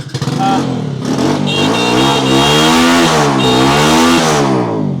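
A Bajaj Avenger cruiser motorcycle engine running loud and close, revving up with a rising and falling engine note.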